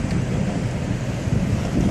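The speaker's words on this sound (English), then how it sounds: "I feel that gust. It's probably a 20-30 mile an hour gust there." Strong wind gust buffeting outdoors during a severe thunderstorm in Dubuque, Iowa, a steady loud roar of rushing air across the microphone with no speech.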